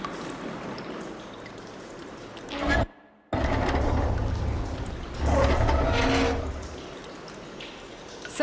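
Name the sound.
water flowing in a room in video game Horizon Forbidden West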